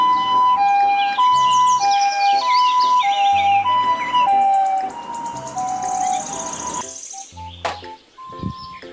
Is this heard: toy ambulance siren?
yes